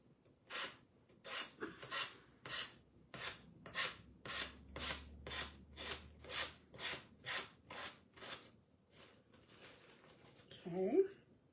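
A craft piece being sanded by hand produces about sixteen evenly spaced rasping strokes in a steady back-and-forth rhythm, close and clear, followed by a brief breathy vocal sound at the end.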